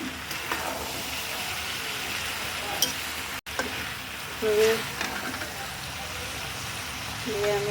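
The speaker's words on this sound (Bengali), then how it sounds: "তারপরও আমি ভুড়িটা অনেকক্ষণ ধরে কষিয়ে নেব" Beef tripe with diced potatoes stir-frying in a pan, giving a steady close sizzle and crackle with occasional stirring scrapes and a brief break midway.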